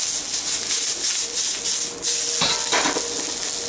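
Carrots and onions stir-fry in a hot pan with a loud, steady sizzle and hiss, with a few brief scraping stirs near the end.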